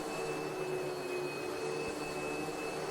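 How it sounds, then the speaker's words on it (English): A Hoover vacuum cleaner runs with a steady, loud whooshing drone that holds at one level from start to finish, with no talking over it. "I have Hoover noises playing."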